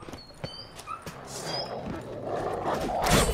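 A dog in the game The Witcher: Wild Hunt gives a few short yips and whimpers, fairly faint, over a rising background of game ambience and commotion.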